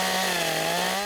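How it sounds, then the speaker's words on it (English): A chainsaw runs steadily at a constant high whine with a strong buzzing drone, loud and close, held without a break for about a second during forestry training in the woods. "It was the first time I ever used a chainsaw."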